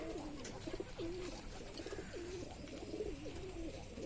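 Several pigeons coo in repeated low, rolling calls at close range, kept by a Bengali pigeon keeper as pairs get ready to lay eggs, over a steady background hiss with no talking.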